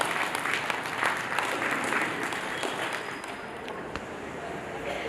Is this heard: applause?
yes